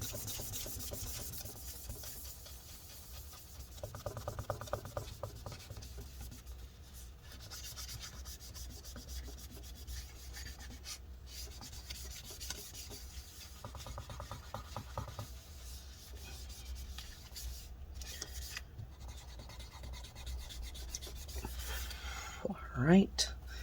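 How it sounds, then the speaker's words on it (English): A MacBook Pro A1708 part is scrubbed clean with a cloth and rubbing alcohol, a continuous close scratchy rubbing with repeated back-and-forth strokes, and someone talks quietly at times. "Put a little more rubbing alcohol on there and continue cleaning it."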